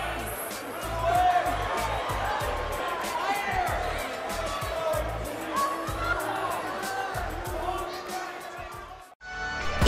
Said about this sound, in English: I hope you enjoyed it as much as this live crowd appears to have enjoyed it